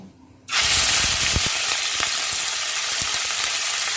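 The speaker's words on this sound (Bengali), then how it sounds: "প্রথমে আমি চিকেনের পিসগুলোকে হালকা ভেজে নেব।" Chicken pieces hit a hot pan already seasoned with cinnamon, cardamom and bay leaves for Afghani chicken, bursting into a loud, steady sizzle after a brief quiet start and holding a continuous close frying hiss with small crackles.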